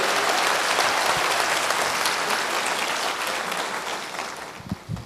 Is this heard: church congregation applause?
yes